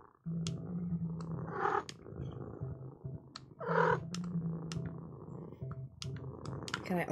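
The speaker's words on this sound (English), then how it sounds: "Should we pet this cat?" Petting a cat in a cozy video game, with soft purring rising under ongoing talk, interspersed with small clicks and brief chirpy game sounds.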